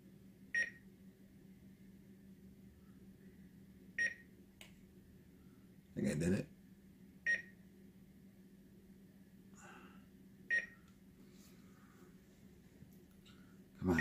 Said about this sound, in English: It's just beeping.